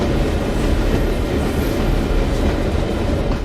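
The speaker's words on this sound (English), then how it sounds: "Alright, that train is coming through now." A train rumbles past in the game Train Sim World 2, a loud, steady low roar with rhythmic wheel clatter and rail noise, close and continuous with no speech.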